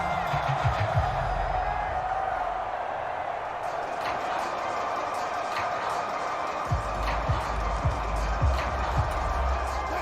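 A stadium crowd in the football game Madden 25, Steelers versus Bengals, keeps up a steady roar with occasional louder swells and sharp knocks, while commentary plays over it.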